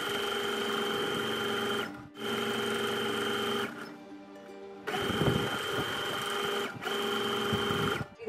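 A sewing machine stitches a blouse hem, running in fast, even bursts of needle chatter split by short pauses and softer handling noises, close and clear with no talk.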